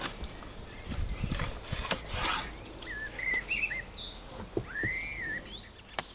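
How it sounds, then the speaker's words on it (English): A handsaw rasps back and forth through wood in short, uneven strokes, with chirping birds calling in the background between the strokes. "I better do the sawing, Ronnie"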